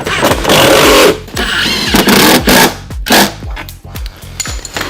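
A power tool tightens bolts on a golf cart hitch receiver bracket in loud, close bursts of whirring and ratcheting, broken by brief pauses and clunks.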